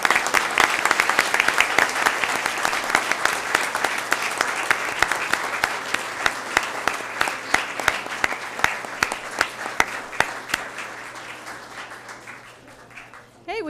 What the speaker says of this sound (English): Let's give them a round of applause as they make their way.